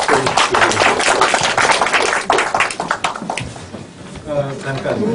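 Audience applause fills a literary lecture event on poet Jo Byeong-hwa, following a mandolin performance: a dense, loud wash of clapping that thins toward the end, with voices talking over it.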